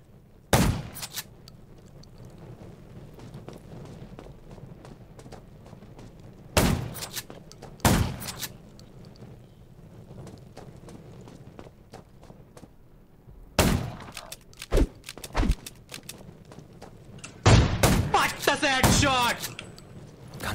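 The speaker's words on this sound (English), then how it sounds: "Gunshots will attract more zombies." Several sharp, loud gunshots ring out at irregular intervals in the video game Undawn, some single and some in quick bursts, with a voice speaking between them.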